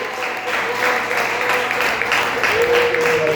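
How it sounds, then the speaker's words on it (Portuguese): A church congregation claps joyfully in praise, sustained, fairly even applause filling the room at moderate volume, with a tonal hum or voice faintly underneath. "exalta o nome do Senhor com palmas,"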